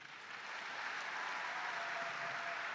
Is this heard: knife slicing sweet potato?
no